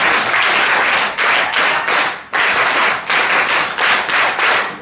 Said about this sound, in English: let's give a school clap to Amol sir.